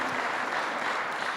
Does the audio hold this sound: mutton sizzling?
no